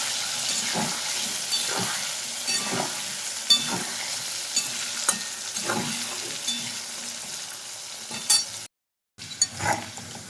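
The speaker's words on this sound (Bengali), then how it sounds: "এবার আমি আলুর টুকরোগুলো তেলের মধ্যে তুলে দিচ্ছি ভেজে নেব লবণ ও হলুদ দিয়ে বেশ ভালো করে ভেজে নিচ্ছি" Potato pieces fry in hot oil with salt and turmeric in a kadai, giving a close, continuous sizzle. Repeated scraping stir strokes cut through it, followed by a brief dropout near the end.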